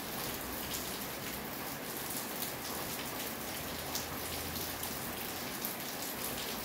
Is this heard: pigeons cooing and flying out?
no